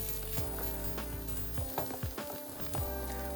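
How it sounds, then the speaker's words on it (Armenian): Onions fry in a pan, giving a soft, continuous sizzle at close range. Occasional clatters and scrapes from stirring break through, and no one talks. "Դեմից տապակում ենք սոխը"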